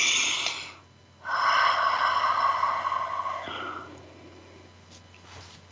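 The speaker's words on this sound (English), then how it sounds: "Let's take a breath together." Group breath: a long, close inhale rushes in, holds steady for a couple of seconds, then fades into a softer, slower exhale, with a quiet hum underneath.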